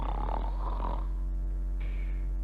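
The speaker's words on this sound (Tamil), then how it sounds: "யாரவன் திண்ணையில படுத்து தூங்கிட்டு இருக்கான் தீவட்டி தடியன்?" A man asleep on a porch snores, one drawn-out rasping breath followed by a softer, quieter exhale, close and steady.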